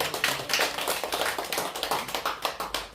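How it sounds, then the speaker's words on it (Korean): A church congregation breaks into brisk applause after a closing prayer at a Sunday service. The clapping is dense and steady from start to finish, with no voices over it. "박수합시다."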